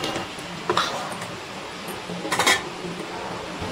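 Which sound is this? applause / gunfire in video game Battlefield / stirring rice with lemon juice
stirring rice with lemon juice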